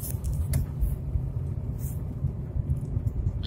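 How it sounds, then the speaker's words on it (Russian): A car coasting in neutral gear, a low steady road rumble and tyre hum from inside the cabin with faint engine idle and no talk. "То есть машина сейчас полностью катится на нейтралке."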